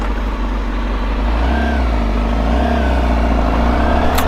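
A Honda CBR Fireblade motorcycle engine accelerates hard, a steady loud droning roar that rises in pitch over a few seconds, close and continuous with no talking.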